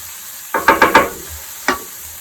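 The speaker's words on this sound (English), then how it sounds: "now we're going to add in the peppers, onions, and celery" Peppers, onions and celery hit a hot pan, giving a few quick sizzling bursts as they are spread out, then a single later crackle, close and fairly loud with no talking.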